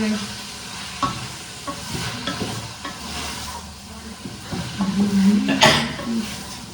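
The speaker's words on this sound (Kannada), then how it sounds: "ಚೆನ್ನಾಗಿ ಫ್ರೈ ಮಾಡಬೇಕು." Palav frying in a pan and being stirred, with a steady sizzle broken by scraping strokes and occasional clinks. Background voices murmur now and then, and a brief tonal sound rises near the end.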